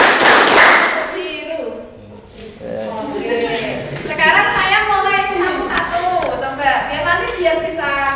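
A classroom clapping game with claps named after colours opens with a loud burst of hand claps, then a voice speaks over occasional softer taps.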